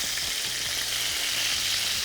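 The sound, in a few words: paleo chicken thighs frying in a pan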